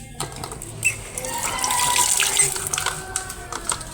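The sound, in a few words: tap water running while washing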